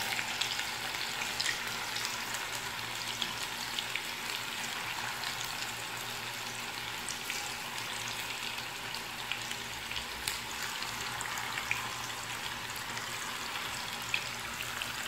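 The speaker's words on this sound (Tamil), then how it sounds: "ரொம்ப சிம்மில் வச்சு ஃப்ரை பண்ணுங்கள்" Kola urundai meat balls frying in oil over a low simmer, a steady dense crackling sizzle with fine popping bubbles, continuous and even throughout with no talking.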